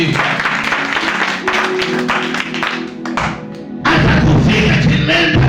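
Congregation clapping during a church service, a loose run of hand claps blended with music and voices that grows louder and fuller near the end.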